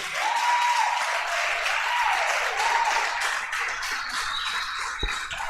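Church congregation applauding continuously throughout, a steady wash of clapping that stays loud and dense from start to finish, with a sustained tone running over it and a single sharp knock near the end.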